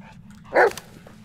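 A dog in the horror video game Blair Witch gives a single short bark, near and clear, rising over a low steady background hum with no talking.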